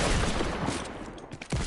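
Dense game gunfire from Fortnite fills the short stretch, a rapid burst of shots that thins toward the end before a final crack.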